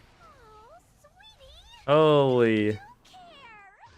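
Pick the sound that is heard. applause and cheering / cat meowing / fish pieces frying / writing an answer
cat meowing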